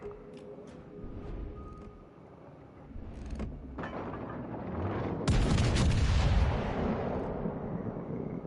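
Warship guns fire in the naval battle game World of Warships: Legends, heavy booming salvos and rumbling blasts building to a loud sustained roar amid in-game noise.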